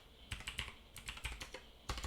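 Rapid typing on a computer keyboard, close and quiet, with clustered keystroke bursts separated by brief pauses.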